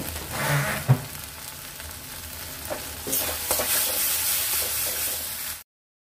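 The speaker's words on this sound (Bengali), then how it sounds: "পাঁচ থেকে 7 মিনিটের মতো এইভাবে নাড়াচাড়া করে জলটা শুকিয়ে নেব।" Mashed pointed gourd being stirred in a pan as its water cooks off, with scraping strokes and a brief clack early on, then a louder sizzling, steaming hiss before the sound stops abruptly.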